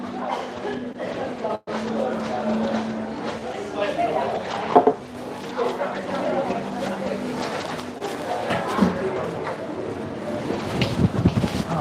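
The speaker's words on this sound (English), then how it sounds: "Oh, it's windy out here." Gusty wind rushes across the open deck of the Viking Sky cruise ship as it sails away from Reykjavik, Iceland, a steady broadband roar with low rumble and buffeting, while voices talk underneath.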